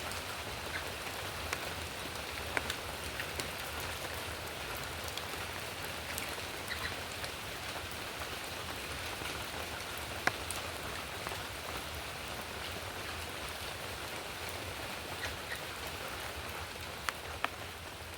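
Steady rain falling on surfaces outdoors, a dense, even hiss with scattered louder drops pattering close by, continuous throughout and free of voices.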